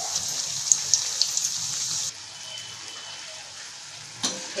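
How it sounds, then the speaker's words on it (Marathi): Potato fritters (bhaji) shallow-frying in hot oil, a steady close hiss with small pops that drops suddenly to a quieter sizzle midway, then a brief scrape near the end. "आता दोन्ही बाजूनी चांगले खरपूस भाजून घ्यायचे."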